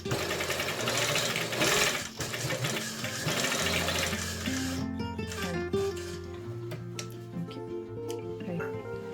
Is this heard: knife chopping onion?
no